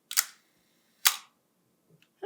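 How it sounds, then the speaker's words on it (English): A camera shutter is set to a one-second exposure. It gives a crisp click as it opens and a second click about a second later as it closes, both in near silence, followed by faint small handling ticks. "So when I push the button, the shutter should stay open for 1 second and then close."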